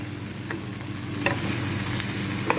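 Egg omelet fried rice sizzles steadily in a hot pan while being stirred, with soft scraping strokes of the spatula breaking through the continuous frying hiss, close up and without talk.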